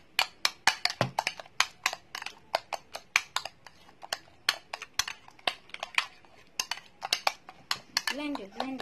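Skincare ingredients being mixed in a small bowl, giving a steady run of quick, close clinks and taps of a utensil against the bowl that keep an uneven rhythm, with a voice talking briefly near the end.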